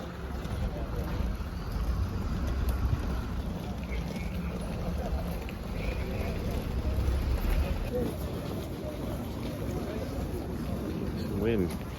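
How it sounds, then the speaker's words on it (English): Wind gusting steadily into the microphone outdoors at a wet, muddy football training ground at London Colney, a constant low roar with slight swells throughout. "Some wind."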